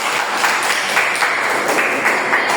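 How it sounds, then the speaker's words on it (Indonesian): Classmates clap for a student at the end of a classroom presentation during a teaching session, a modest group of hands beating in a steady, slightly uneven patter, nearby and continuous. "Beri tepuk tangan untuk Mutia."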